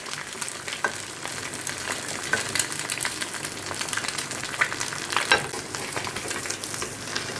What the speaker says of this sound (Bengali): ডিম ভাজা করে নিচ্ছি